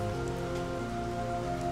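Steady rain patters in the video game Portal Revolution, a dense, even hiss of falling drops with a faint low hum underneath, continuous and quiet, with no voices.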